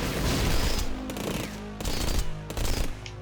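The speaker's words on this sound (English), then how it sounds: "the plasma cutter is the most basic plasma weapon" A plasma cutter weapon fires in the video game Rengoku: The Tower of Purgatory. Loud, rapid mechanical bursts come in three close, rhythmic volleys with short pauses between them.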